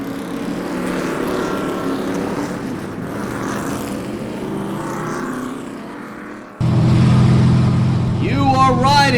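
Street stock race cars getting underway at a dirt speedway, a steady engine drone that jumps louder partway through as the cars roll off together, with rising revs near the end.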